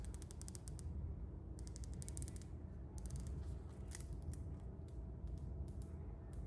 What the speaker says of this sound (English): The bezel, the clicks.